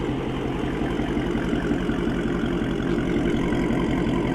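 A Dodge Scat Pack's engine holds a steady, loud rumble at raised revs on launch control, a dense low throb pulsing evenly throughout with no voices.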